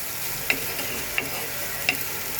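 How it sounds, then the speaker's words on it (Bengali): Onion frying in a pan gives a steady, faint hiss, with three brief sharp pops or clinks standing out, and no voices. "পেঁয়াজটা এখন ভাজা হোক"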